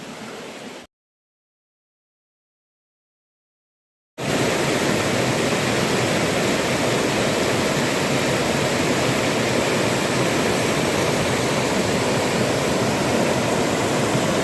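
A waterfall fed by a pond on the Appalachian Trail in Maine roars steadily and loudly at close range after a brief silent gap, with no voices.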